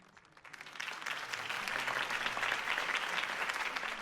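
A crowd at a political rally for Harvey Dent in a Batman video game bursts into applause that swells quickly and holds as steady, dense clapping with cheering for several seconds.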